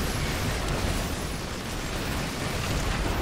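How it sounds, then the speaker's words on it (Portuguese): A StarCraft II explosion ability in a Terran co-op match goes off as one loud, dense burst of broadband noise that holds steady for about three seconds, with no voice over it. "A Nova tinha usado a habilidade de explosão."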